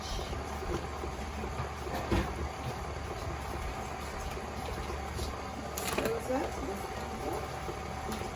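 An electric mixer whirs steadily while mixing cookie dough, a quiet continuous mechanical hum with occasional clunks and rattles, and a voice talks briefly over it.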